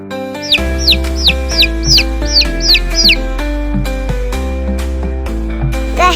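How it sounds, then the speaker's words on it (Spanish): Chicks peep in a quick series of high, bright chirps, loud and close over a children's song with a steady beat, followed by fainter scattered peeps. "Pollito."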